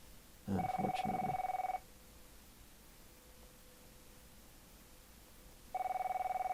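A telephone rings with an incoming call, one long electronic ring burst followed by a second ring after a few seconds of quiet, fairly clear over a faint background hiss.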